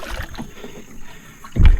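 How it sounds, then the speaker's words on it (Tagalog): A small boat is rowed through floodwater on a flooded road, with soft paddle splashes and water sloshing, ending in a louder low thump or splash near the microphone amid light wind noise. "May tubig pa, nagbabangka tayo."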